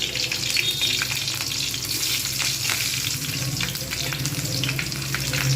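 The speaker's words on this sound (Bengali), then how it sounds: "তেল গরম হয়ে গেছে, এখানে দেব শুকনো লঙ্কা," Dried and green chillies fry in hot mustard oil for kolmi shak bhaja, a steady close sizzle and crackle with occasional stirring scrapes, heard without talk.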